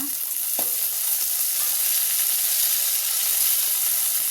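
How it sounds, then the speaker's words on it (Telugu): Mint leaves fry with browned onions in a pan, giving a steady bright sizzling hiss with an occasional stir, close and unbroken, no voices. "ఉల్లిపాయలు కొంచెం వేగాక ఇప్పుడు ఇందులో కొంచెం పుదీనా వేసుకున్నా."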